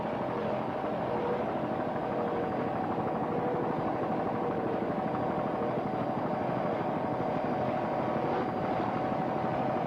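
Racing powerboat engines roar at full throttle, a dense steady drone that stays loud and unbroken, with no pause or voices.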